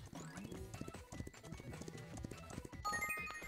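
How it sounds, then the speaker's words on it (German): Rapid horse hoofbeats clatter steadily over a low backdrop from the game Miitopia, with a faint chime near the end. "das ist ein Pferd."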